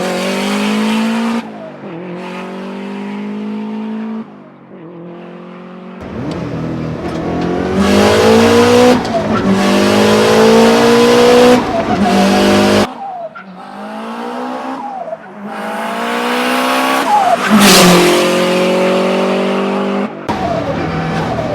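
A modified 1996 Subaru STI Type RA with an aftermarket exhaust and HKS F-Con V-Pro engine management revs hard while being driven. The engine rises and falls through repeated loud, close acceleration pulls with brief lifts between them, and no talking.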